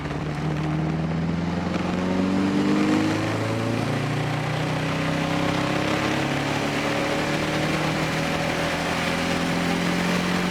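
Nissan 240SX with a turbocharged KA24DET engine on a 14 lb wastegate, pulling hard in third gear: a loud continuous engine roar whose pitch climbs steadily for about ten seconds, heard close with no talking.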